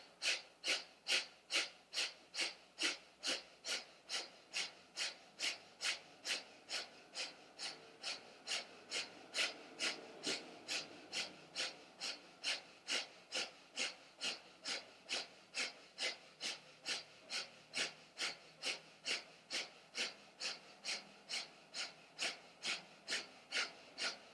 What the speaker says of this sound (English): sharp exhales out the nose as you pump your belly